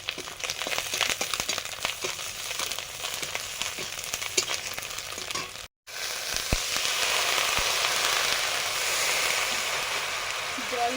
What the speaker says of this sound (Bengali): জল দিয়ে মশলাটা কষে নিচ্ছি।